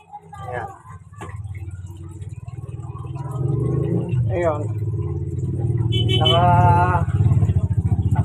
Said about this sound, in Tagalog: Sasaksak ko na yung plug para paandarin ko na po yung motor.